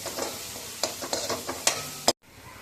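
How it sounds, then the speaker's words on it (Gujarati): Masala stirred and roasted in a pan over a low flame for pea kachori filling, with soft scraping strokes over a steady faint sizzle, ending in a brief silence. "મસાલાને સરસ રીતે શેકી લેવાનું છે, ધીમા તાપે શેકવાનું છે"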